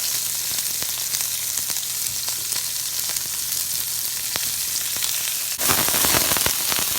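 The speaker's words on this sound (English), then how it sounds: "And I'm going to add the broccoli too. The onions." Broccoli and onions hit a hot pan for Vietnamese crispy egg noodles with chicken and beef, giving a steady, close sizzling hiss with scattered pops that flares louder and more crackly for the final second and a half.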